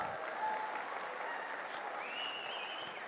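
Loud, steady audience applause fills a Megastar Chiranjeevi birthday celebration, a dense crowd clapping continuously from start to finish, with a faint whistle-like tone rising late in the ovation.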